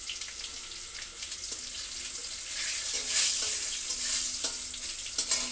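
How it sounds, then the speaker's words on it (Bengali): Cumin seeds and a bay leaf sizzle in hot oil in a kadai, a steady bright hiss with a few light clinks of stirring. "মোচা, তার জন্য জিরে তেজপাতা ফোড়ন দিয়ে দিচ্ছি।"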